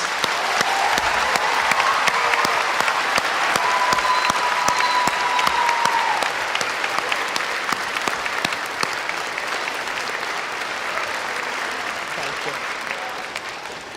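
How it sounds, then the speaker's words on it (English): A large crowd at a National Historical Park quarter launch ceremony in Lowell breaks into sustained, sharp applause that carries on evenly, with a few faint cheers and voices inside it, before easing slightly toward the end. "So please give them a round of applause."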